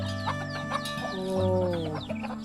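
Several chickens cluck and chatter nearby, overlapping squawks and murmurs with a few longer calls, no talking.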